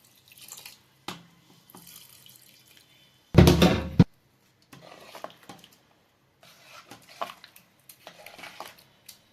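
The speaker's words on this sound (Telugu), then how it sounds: "వన్ గ్లాస్ వాటర్ వేసాను." A brief burst of water, about one glass, poured into a metal pot of mango pickle, about a second long, surrounded by quiet clinks and scraping.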